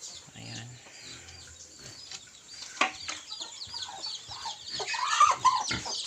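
Chickens, including a Barako rooster, cluck and chatter continuously in a busy Philippine farmyard chorus, growing a little louder toward the end, with no talking.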